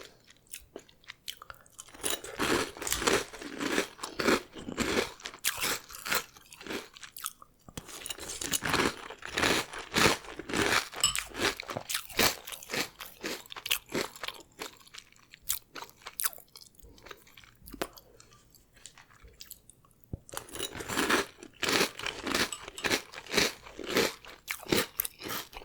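Crunchy eating of classic breakfast cereal, close-up bites and chewing in dense repeated bursts with short pauses between mouthfuls, no talking.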